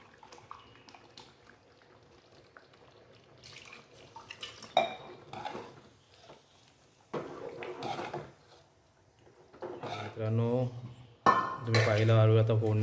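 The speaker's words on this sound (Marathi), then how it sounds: "आता हे सर्व भांडी धुवून घेऊ" Pots and pans clatter and clink in a sink, with bursts of running water splashing near, loudest toward the end.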